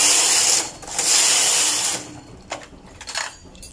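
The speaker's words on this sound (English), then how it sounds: "Now we are knitting 40 rows." A punch-card knitting machine knits rows of a patterned skirt, its carriage sweeping across the needle bed in two long whirring passes, followed by a few sharp mechanical clicks and rattles.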